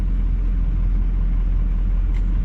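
A rusty 2003 six-liter diesel dually pickup idles with a steady low, loud rumble from inside or close by, unbroken throughout with no talking.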